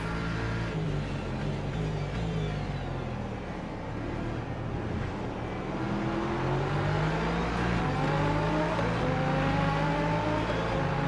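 An LMP2 prototype race car in Le Mans Ultimate, its engine droning steadily as it laps, revs rising and falling through gear changes with other cars audible around it, loud and continuous.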